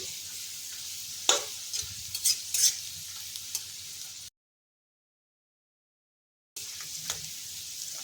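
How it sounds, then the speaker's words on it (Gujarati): Garlic sizzles softly in a pan while a spoon stirs and scrapes, with a few sharp clicks, then a stretch of silence before the sizzling resumes. "તો આપણે અહીંયા લસણને સરસ આ રીતે સાતરી લઈશું"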